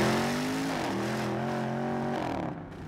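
A Porsche Cayenne Turbo S E-Hybrid Coupe with a 4-litre bi-turbo V8 accelerates hard, its loud engine note climbing through the revs with a gear change, then easing off near the end.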